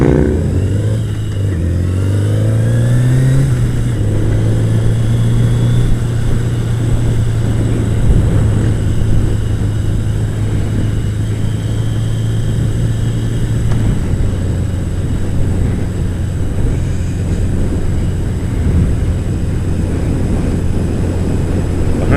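Harley motorcycle engine heard from a bike riding close behind it, a loud continuous drone with shifting pitch as speed rises and settles, wind noise throughout.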